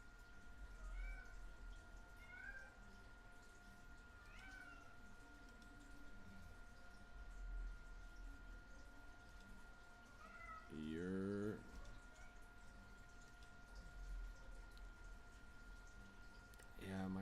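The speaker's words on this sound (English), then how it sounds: "Yeah, my cat's fucking annoying, bro. I fed that guy 3 times already and he still wants more food." A hungry cat meows repeatedly for food, several short cries and one longer drawn-out wail near the end, heard close but fairly quiet over faint background noise.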